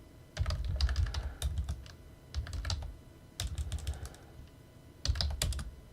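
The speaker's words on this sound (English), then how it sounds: "Let me just type in concussion." Keys clatter on a computer keyboard in several quick bursts of typing separated by short pauses, close and fairly quiet, with no voices.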